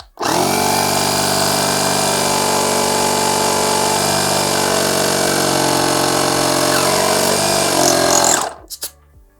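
An Aspiring Airflow 2 portable car air compressor, rated 150 psi and 35 L/min, runs as a loud, steady mechanical drone with a buzzing pitch for about eight seconds, then shuts off abruptly and leaves a short rattle.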